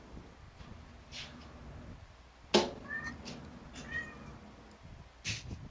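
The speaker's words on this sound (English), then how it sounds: "That's a cat." A cat meows several times in short, separated calls, fairly close and clear over a quiet room background, with one sharp click-like sound mid-way.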